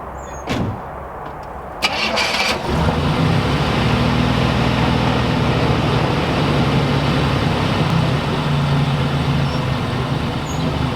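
A 1987 Oldsmobile Cutlass, long abandoned, cranks and catches, then its engine settles into a steady, loud, even idle that runs alone for the rest of the stretch.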